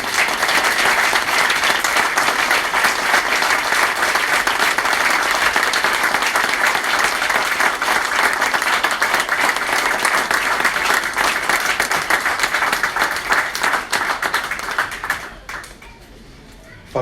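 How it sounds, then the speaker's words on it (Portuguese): A loud, dense round of audience applause at a book presentation carries on steadily, then tapers off near the end into quieter room sound. "Uma salva de palmas para o Isaac"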